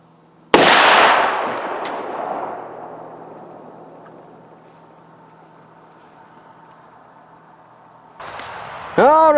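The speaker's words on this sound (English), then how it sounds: "I'm gonna shoot one more Remington triple aught" A single loud shotgun blast firing Remington triple aught buckshot outdoors, a sharp close crack followed by a long rolling echo that fades over several seconds, then other faint noises near the end.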